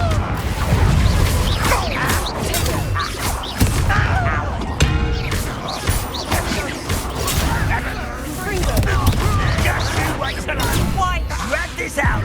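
Confringo blasting curse explosions in Hogwarts Legacy combat, with repeated booms and crashing impacts bursting through dense, loud battle noise while voices talk over the fight.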